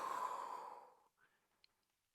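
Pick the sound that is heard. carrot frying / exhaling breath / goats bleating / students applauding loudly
exhaling breath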